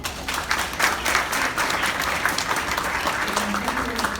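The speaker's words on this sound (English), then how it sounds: "Give them a round of applause." Staff at a staff meeting give a round of applause, a sustained crowd of clapping hands that swells early and then holds steady, with a faint voice briefly audible toward the end.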